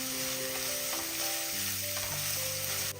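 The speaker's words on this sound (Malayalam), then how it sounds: "ഇനി ഇഞ്ചിയുടെയും വെളുത്തുള്ളിയുടെയും ആ പച്ച ടേസ്റ്റ് ഒന്ന് മാറുന്ന വരെ ഒരു 10 സെക്കൻഡ് ഇളക്കി കൊടുക്കുക" Chopped ginger and garlic sizzle steadily in a hot pan over a medium flame while being stirred, giving a close, continuous fry with faint scraping, and no voices.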